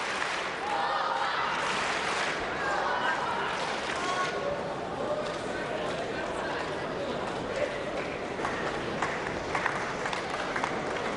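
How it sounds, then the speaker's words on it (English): A crowd at a table tennis World Cup men's final applauds and cheers in a steady, loud roar of clapping and chatter, with a commentator speaking over it. "the crowd is ever more vociferously behind him"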